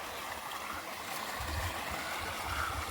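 Water runs steadily into a swimming pool being filled, making a continuous rushing, gurgling stream like a small waterfall. It is moderately loud and close, with no voices.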